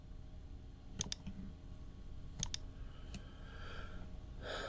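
Computer mouse clicks in 3D modeling software while selecting four holes on an ROV controller model, with a few sharp, quiet clicks in pairs and singles over a faint hum.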